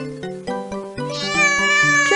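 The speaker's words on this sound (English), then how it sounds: "Cats like to chase mice and say meow." A cartoon cat meows in the Muppet Babies video game, a few clear synthesized mews over a bouncy musical backing, close and fairly loud with no talking.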